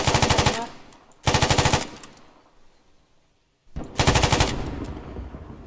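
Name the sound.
sniper gunfire in video game Arma 3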